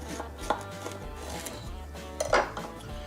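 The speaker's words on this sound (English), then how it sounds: "Lay it flat, cut it right in half." A knife cuts a jalapeno in half on a cutting board, making a couple of soft, close thuds over a droning background of music.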